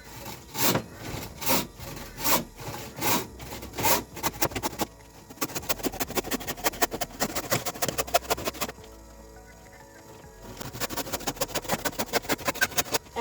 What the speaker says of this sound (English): Now I'm just going to cut it out with my saw.